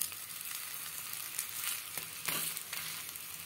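Wheat roti with carrot cooks slowly on a hot pan over moderate heat. A faint, steady sizzle and crackle carry throughout, with a few brief louder pops.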